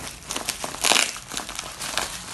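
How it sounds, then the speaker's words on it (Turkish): Gift package being unwrapped, its wrapping crinkling and tearing in bursts of close, crisp rustling, loudest midway, with no talk. "Hemen Paketimizi açıyoruz arkadaşlar."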